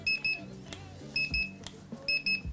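A digital thermometer beeps in quick paired and triple electronic chirps while checking a hot pancake delivery, small and fairly near, with soft handling noises and rustling in between.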